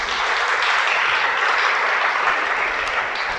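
A congregation at a sermon breaks into applause, a thick, even roar of many hands clapping together, loud and sustained without speech on top.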